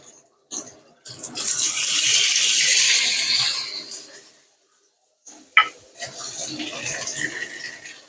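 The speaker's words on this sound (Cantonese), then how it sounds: "咁依家放啲羊架落去隻鑊嗰度" Marinated lamb chops dropped into an oiled wok for pan-frying give a loud, hissing sizzle that swells for a few seconds and fades. A short clatter and a second, softer burst of sizzling follow.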